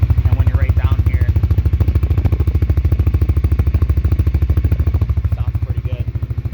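A CFMoto CForce ATV with a modified exhaust idles close by, a loud, steady low-pitched chugging with an even rapid pulse that holds throughout, with faint background voices.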